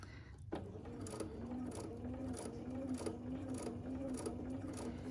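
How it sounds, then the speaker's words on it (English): A Bernina sewing machine stitches fabric in a steady, continuous mechanical whir with a fast repeating rhythm, running close and fairly loud throughout with no talking. "And I'm just stitching right on the line, the same as I did the other two corners."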